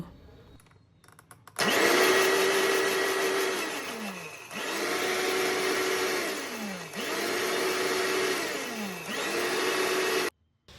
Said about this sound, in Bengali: এবার আমি একটু ধনে পাতাটাকে বেটে নেব অল্প একটু জল দিয়ে ধনে পাতাটা বেটে নেব